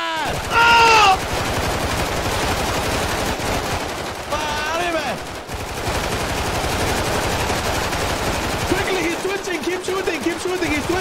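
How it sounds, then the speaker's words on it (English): Rapid automatic gunfire in GTA 5, a dense crackling fusillade running almost the whole stretch under excited shouting voices, with a brief synthetic beep-like tone near the start. "Keep shooting, keep shooting!"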